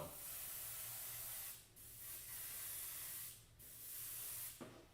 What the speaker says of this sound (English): That's the main reason I got an airbrush, is to seal and prime